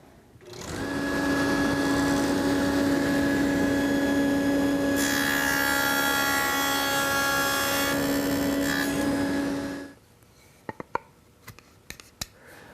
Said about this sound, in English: then plug the saw in and make a test cut